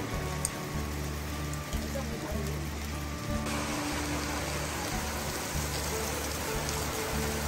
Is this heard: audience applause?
no